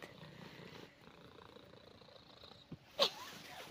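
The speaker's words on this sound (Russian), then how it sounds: "Кто меня тут бодает и мурлыкает?" A cat purring softly and close by in a quiet garden, a low steady rumble running for several seconds before a brief sharp snort or sneeze near the end.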